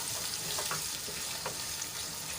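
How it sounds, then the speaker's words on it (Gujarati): Chopped onions frying in a pan until reddish, a steady broadband sizzle filling the whole stretch with a few brief stirring clicks, close and alone with no voices. "તો ડુંગળીને આપણે લાલ થાય ત્યાં સુધી એને ફ્રાય કરી લઈશું"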